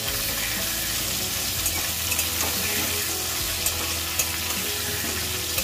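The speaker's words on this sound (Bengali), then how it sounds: "হলুদটা দেবো, আলুটা একটু ভালো করে কষে দেবো।" Potatoes with turmeric stir-fried in a hot pan for a home-style chicken curry, giving a steady, dense sizzle of frying oil with occasional scraping and stirring clatter, close and continuous.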